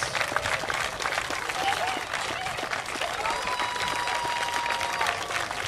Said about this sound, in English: keep that applause going for Sophie Bukovec, Heather Bansley of Ontario, your silver medalists